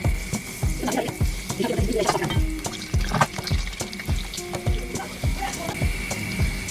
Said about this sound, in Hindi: ऑयल गर्म हो गया, अब इसमें 1 बाय 1 करके अपने बॉल डाल देंगे।